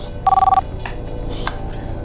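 A telephone gives a short electronic ring, a quick warbling trill heard once near the start, followed by faint clicks and room noise.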